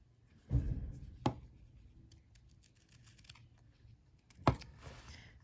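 Scissors snip through velvet ribbon and tulle at a craft table while making a Christmas jar shaker tag, giving three sharp, close cuts separated by quiet handling noise.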